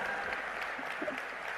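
A conference crowd claps steadily in warm, continuous applause at a moderate distance, at BioAsia 2024 in Hyderabad.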